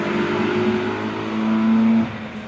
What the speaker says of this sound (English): Away goes Bob Clark in that 205 GTI